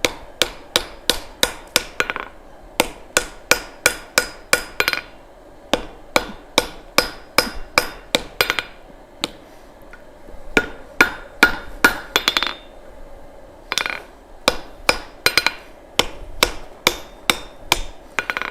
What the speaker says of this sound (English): Let's go to the anvil, Jess. All right. I'm going to try to weld up this pole.